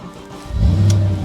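An Audi S4 V8 engine starting after sitting for six months: a short crank and then the engine catching into a loud, low, steady idle rumble close by.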